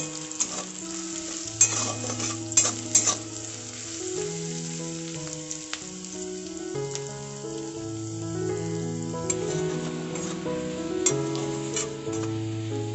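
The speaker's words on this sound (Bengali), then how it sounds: "রসুন আর পেঁয়াজটা খুব ভালোভাবে একটু ভাজা ভাজা করে দেব" Chopped onion and garlic frying in a pan while being stirred, a soft sizzle with scraping stirs, fairly quiet beneath background music.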